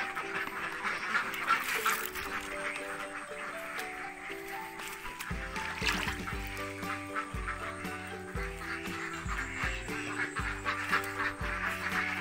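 Flock of laying ducks quacking steadily at a moderate distance on a farm, a continuous chorus of overlapping calls with no talking.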